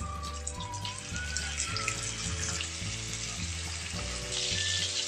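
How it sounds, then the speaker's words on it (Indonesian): Steady sizzling and crackling of chicken frying in hot oil, with music playing over it throughout. "Langsung aja aku akan goreng ayamnya."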